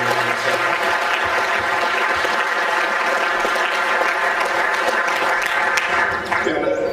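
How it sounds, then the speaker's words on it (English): An audience at an energy fair keynote gives a sustained round of applause, dense and loud clapping from many hands that carries on evenly before tapering off at the end. "So let's please give them a round of applause."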